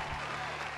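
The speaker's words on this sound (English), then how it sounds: "let's get some applause for you" Applause sound effect played during a live stream, a short burst of clapping with steady crowd noise across the whole moment, moderately loud.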